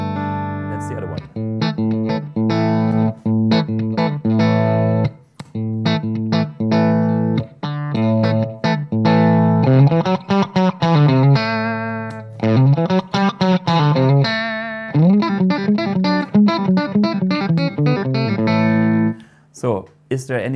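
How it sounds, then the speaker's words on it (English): An electric guitar through an all-tube preamp, clean on the edge of breakup with the tubes clipping, gives a slightly gritty tone, playing a run of chords and single-note phrases, close and clear, with brief pauses between. "This is an amp sound which is clean on the edge of breakup, where the tubes are actually clipping"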